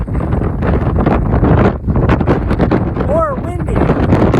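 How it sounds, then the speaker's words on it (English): Strong wind buffets the microphone on a foggy coastal hiking trail along an ocean view, a loud, continuous roaring gust with a brief whistling squeak late on. "Still super windy"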